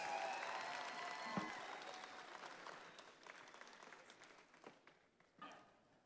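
Audience at the National Arts Merit Awards ceremony in Zimbabwe claps in a full round of applause that gradually thins out into scattered, fading claps.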